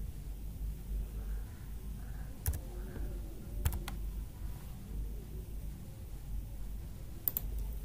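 Computer keyboard being typed on to enter an Aadhaar number, a handful of sparse soft key clicks over a low background hum, quiet and close, with no one talking.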